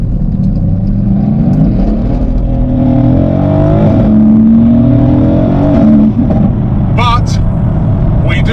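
A Renntech-tuned Mercedes-AMG GT-S accelerates hard, its engine rising in pitch through the gears with a loud, close rumble, while someone talks over it and tires squeal briefly near the end.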